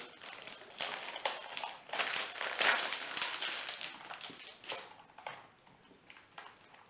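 A Logitech G513 mechanical keyboard with GX Brown switches is lifted out of its retail box, giving faint, scattered rustles and soft packaging crinkles in short bursts, with no talk.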